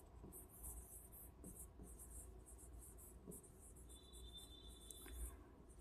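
A teacher writes on a board during a grammar lesson, producing faint, scratchy marker or chalk strokes in short repeated bursts against a quiet room, with no talking.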